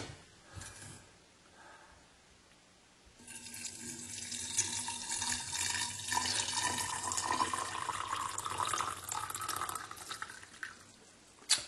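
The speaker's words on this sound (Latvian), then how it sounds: "Lejam ūdeni virsū tagad." Water poured from a tap over chaga mushroom pieces, a soft start then a sustained, close rushing splash that swells and bubbles for several seconds, ending with a sharp clink.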